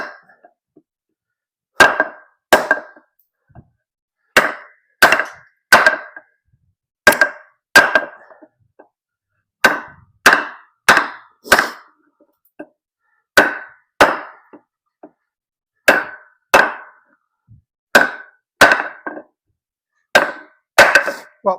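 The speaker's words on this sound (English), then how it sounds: "So let's give it a go right here. Nice hard piece of wood for sure." Repeated sharp chopping blows from a ThrwClub tanto knife in 420c steel striking a hard piece of wood, arriving in irregular clusters of two to four impacts with short pauses, close and loud, with no talk.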